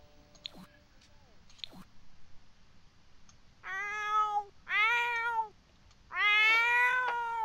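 Cats in The Sims 4 video game trade three drawn-out, harmonic yowls and meows after a few faint clicks, loud and close in an otherwise quiet scene.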